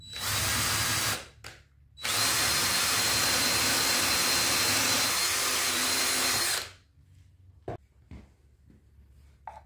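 A power drill bores into a 60-year-old wooden dinner table to enlarge a mis-drilled hole, whining loudly in two sustained bursts separated by a brief pause, then stopping, followed by a few faint knocks and handling sounds.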